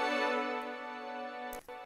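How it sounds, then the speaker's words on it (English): A quiet, dry string ensemble holds a sustained chord, ending with a brief noisy shuffle. "Yeah, it's this string ensemble."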